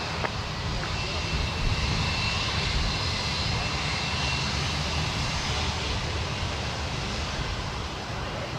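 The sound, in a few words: aircraft landing at Sydney Airport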